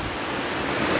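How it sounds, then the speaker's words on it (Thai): A waterfall at Mae Mae treehouse in Thailand, heard as a steady, dense roar of rushing water, loud and unbroken throughout without any voices. "น้ำตกไซลอดต่วง"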